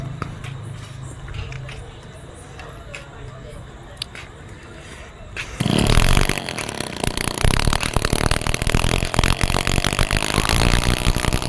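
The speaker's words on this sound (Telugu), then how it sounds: "ఇంజిన్ అయితే స్టార్ట్ చేసాడు" A farm water pump engine in a field kicks into life partway through, its loud, steady running drowning out quieter outdoor sounds and faint voices heard before it starts.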